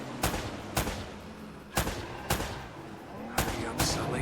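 Gunfire in an Uncharted video game on PS5: five sharp, loud shots spaced irregularly over a few seconds, each with a short echoing tail over a low background rumble.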